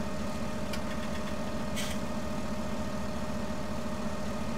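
Potato planter motor in Farming Simulator 17 running steadily at a low hum, coupled to a tractor, with a constant idle drone and two brief faint clicks, no voices.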